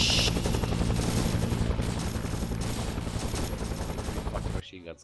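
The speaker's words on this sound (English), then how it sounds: "Fucking machine guns covering us" Sustained automatic gunfire roars through a Vietnam war video game battle, a dense, loud, continuous rattle with heavy low rumble that cuts off abruptly near the end, leaving a brief quieter moment.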